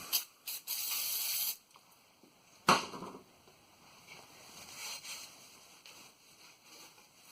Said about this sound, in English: A shot of brake clean.